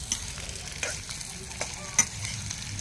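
Food fries in oil, giving a soft, steady sizzle broken by a few scraping stirs and clinks. The sound is close and fairly quiet, with no talking.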